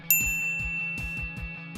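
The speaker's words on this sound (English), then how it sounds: "ring the bell to get notified about our latest videos" A bright notification bell ding rings once at the start, followed by a soft, rhythmic low thumping pattern in the background, with no talking.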